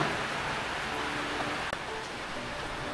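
Rain falling in a backyard in the Philippines near a bamboo privacy wall under construction, a steady even hiss of close rainfall with a single small knock partway through and no voices.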